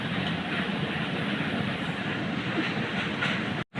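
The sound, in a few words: train passing in video game Indian Bike Driving 3D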